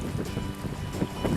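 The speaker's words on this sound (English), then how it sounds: "It is so windy." Strong wind blows across St. Mary Lake in Glacier National Park, a steady, close, rumbling roar that buffets the microphone and swells in gusts, with no talking.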